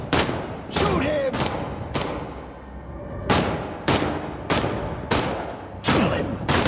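Repeated heavy gunfire bursts from the video game Dark, about nine loud shots or short volleys spaced roughly evenly with brief gaps, close and dominant, with faint voices beneath.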